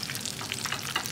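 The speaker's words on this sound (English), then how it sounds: "This is the way to cook lumpia" Frozen lumpia fry in a pan with a steady, close crackling sizzle and scattered brighter pops, continuous through the short stretch with no voices.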